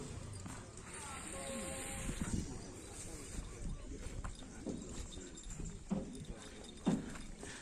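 Hooves of three big racing bulls pound during a bull-race training session for the Bupati Cup in Pamekasan, a loose clopping rhythm with heavier thuds, mixed with people talking and outdoor crowd noise.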